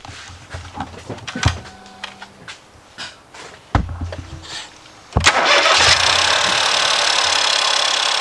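A Ford EcoSport, Fiesta or Focus engine cranks and fires up after a timing belt and oil pump replacement, with a few clicks and clunks before it catches and settles into a loud, steady idle with ticking injectors, close by.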